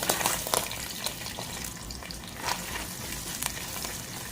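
Sliced onion frying in a little oil for chicken masala curry, a dense, steady close sizzle with small crackling pops and stirring throughout.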